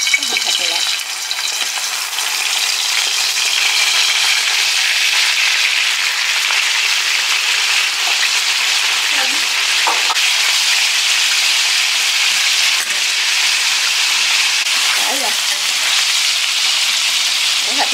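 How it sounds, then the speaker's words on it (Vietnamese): Canned meat sizzles and spatters steadily in a hot frying pan, a dense, continuous crackle of fat with occasional stirring scrapes, close and loud throughout, with no talking. "Giờ mình chiên cái hộp thịt này lại."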